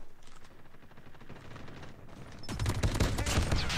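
Bursts of rapid gunfire from the COD Mobile shooter game, steady at first and then growing louder and denser partway through, with no talk.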